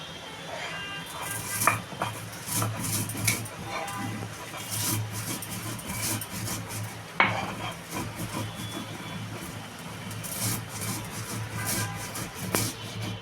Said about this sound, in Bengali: আমি আগে ধনে আর কালো জিরাটা গুঁড়ো করে নেব তারপর আমি কাঁচা লঙ্কাটা শুকনো লঙ্কাটা বাটবো